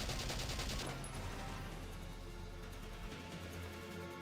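Dense, continuous gunfire fills a Valkyria Chronicles battle, a rapid fusillade of overlapping shots with machine-gun bursts and a low rumbling bed throughout.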